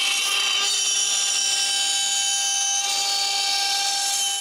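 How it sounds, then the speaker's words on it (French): A CNC router with a straight bit cuts wood, giving a continuous high-pitched whine with steady tonal bands and a slight shift midway, loud and alone without speech. "je remets la fraise droite et finis la découpe"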